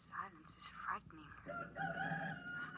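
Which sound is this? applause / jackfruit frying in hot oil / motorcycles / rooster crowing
rooster crowing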